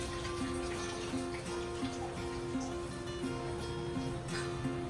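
Water pours steadily into a pot of vegetable biryani with rice, a continuous splashing stream accompanied by a regular repeating tone from kitchen equipment in the background.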